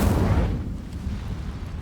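Incendio fire spell cast in the video game Hogwarts Legacy: a loud, low whooshing burst of flame at the start that rumbles on and slowly fades over about two seconds, with no talking.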